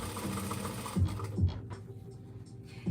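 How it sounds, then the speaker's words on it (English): A sewing machine stitches through layered fabric of a girl's dress, a close, steady mechanical whir with faint rhythmic ticking, easing into quieter pauses between short runs. "Okay, laying down with my finger and sewing."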